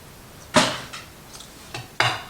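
A spoon stirring squeezed lime juice into a mango, onion and cilantro salsa in a bowl, giving four separate clinks and scrapes against the dish, close and fairly crisp, with no voices.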